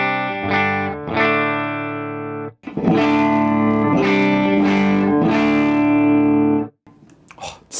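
Electric guitar through a Marshall Super Lead head switched in with a Fryette ZMACS amp selector: a few picked chords, then loud sustained ringing chords, close and alone.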